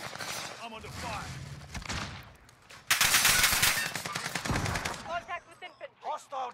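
Rapid automatic gunfire from a video game rattles in dense, loud bursts during a firefight, with synthetic game voice announcements heard around it.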